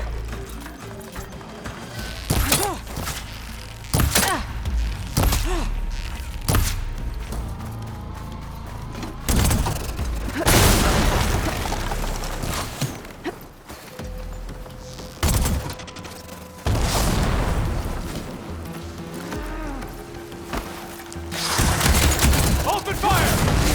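Gunfire and explosions in the video game Horizon Forbidden West, repeated heavy booming blasts and bursts of shots between quieter spells, with in-game voices shouting over the fighting.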